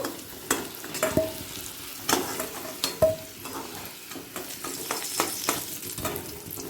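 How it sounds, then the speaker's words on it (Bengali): Potato pieces fry in hot mustard oil in a pan. A steady close sizzle runs throughout, broken by occasional sharp spatula scrapes and clicks, with no one speaking. "আলুটা হালকা লাল হওয়া পর্যন্ত অপেক্ষা করব হালকা লাল করে ভাজা হয়ে গেছে"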